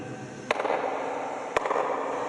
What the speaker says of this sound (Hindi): यहाँ ताली बजाएं तो एक आवाज आती है